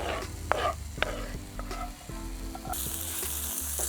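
Curry paste hitting a pan of frying vegetables, with a few sharp utensil taps and stirring scrapes early on, then the sizzle jumps to a louder, brighter hiss partway through, close and with no talk.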